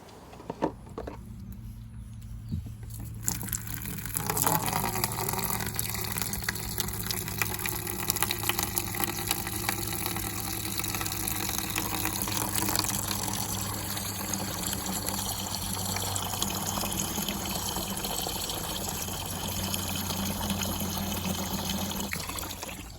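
Discoloured water drains steadily from a caravan tank for a long stretch, a constant low trickling flow with a faint hum underneath, fairly quiet and without voices.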